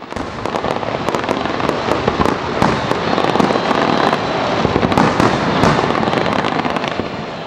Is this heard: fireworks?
yes